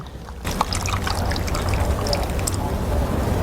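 Water poured over dried mushrooms being washed, a steady splashing trickle that starts abruptly and runs continuously at close range.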